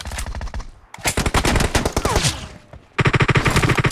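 Rapid automatic gunfire from the mobile game Battleground Mobile India, with dense bursts of shots, a short gap near the one-second mark, a quieter stretch, then another loud burst.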